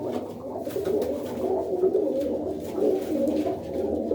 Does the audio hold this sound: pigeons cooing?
yes